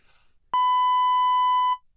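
A single loud, pure censor beep, about one second long, cuts in sharply and stops cleanly against near silence, a built-in bleep feature of podcast recording hardware.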